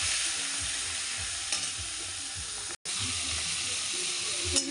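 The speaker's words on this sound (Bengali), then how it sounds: "চিংড়ি মাছটা লাল করে ভাজবো" Prawns fry in a wok, a close, steady sizzle and hiss with scraping stir strokes from a spatula, briefly cut off in the middle.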